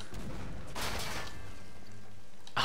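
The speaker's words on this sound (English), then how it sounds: "grenade's taking out the cover there as well" A grenade blast in a 1v1 tournament shooter match, a broad burst of noise rolling through the middle of the clip amid a steady din of game sounds, with a short sharp crack near the end.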